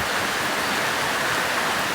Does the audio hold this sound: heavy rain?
yes